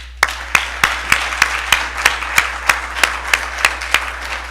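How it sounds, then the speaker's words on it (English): Applause for Chuck Haas at the Clarke Prize ceremony comes as steady, evenly spaced claps, almost rhythmic and fairly close, with a soft crowd wash beneath. "would you be so kind as to join me in one final round of applause for Chuck Haas?"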